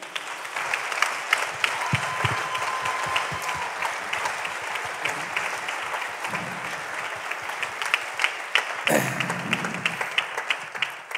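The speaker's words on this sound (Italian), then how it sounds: "fategli un grande, immenso applauso" An audience at the final of a regional Ligurian artists' contest applauds a fourth-place finalist in the performers section: dense, steady clapping that holds loud and even throughout, with a brief low burst of crowd noise near the end.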